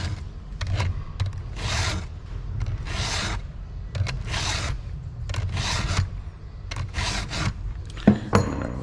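A chainsaw chain's alternating teeth are filed by hand, with a steady rhythm of rasping strokes, each about half a second long, near and distinct, and light clicks between strokes as the file is repositioned.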